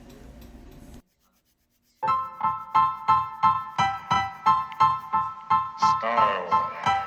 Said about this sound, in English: you'll see me just do a little bit of filing on the tip and around the edges of those two fingers